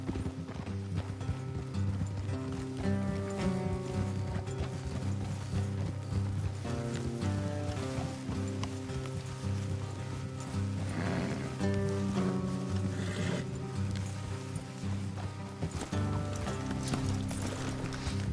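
Rhythmic clip-clop of horse hooves trotting steadily beneath a dense musical score in the video game Red Dead Redemption 2, the hoofbeats continuing throughout.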